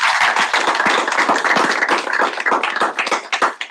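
An audience at a Senate meeting claps in dense, crisp applause that stays loud and close, thinning slightly toward the end.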